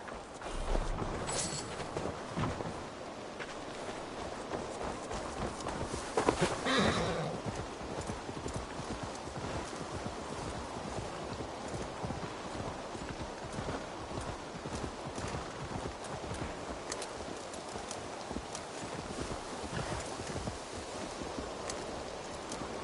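Horse hooves in Assassin's Creed Valhalla: a steady, close clip-clop of a walking horse with an occasional whinny and faint rustling, continuous throughout.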